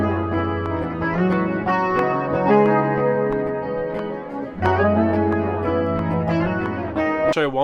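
Several layered guitar loops from a Logic Pro X session playing together: chorused, echoing electric guitar chords and low-octave lines in a steady repeating pattern, full and continuous, restarting midway and ending on a quick rising swell.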